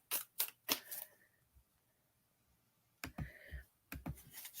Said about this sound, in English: So I'm going to pull her 5 more cards.